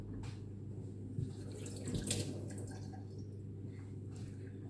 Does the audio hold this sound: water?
yes